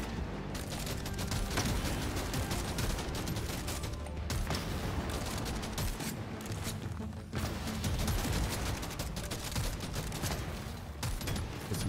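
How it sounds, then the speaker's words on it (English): Weapons blaze nonstop in the video game Deep Rock Galactic Survivor, a dense, unbroken barrage of rapid gunfire and impacts that stays loud and steady throughout, with only brief dips in the clatter. "My guns are shooting everything but him."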